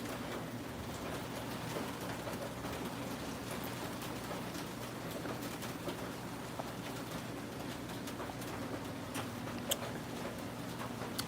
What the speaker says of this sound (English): I guess the rain is not done